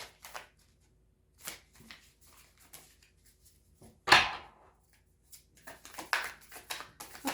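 Tarot cards being shuffled and drawn by hand in a quiet room, scattered soft riffles and slides with one sharper snap midway and a flurry of card handling near the end, close and faint.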